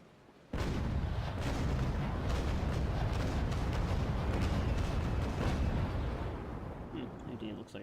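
Naval cannon broadside from sailing warships in a video game, a sudden heavy boom that opens into a long, rumbling roll of overlapping gunfire, loud at first and then slowly fading.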